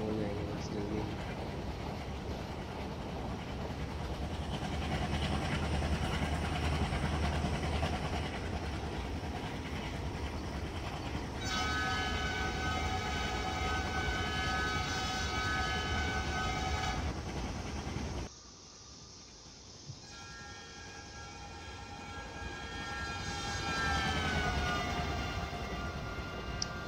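Diesel locomotive engine of a WDM3D running in an Indian train simulator, a steady loud rumble with layered tonal whine rising as the engine speeds up, briefly dropping in level before climbing again.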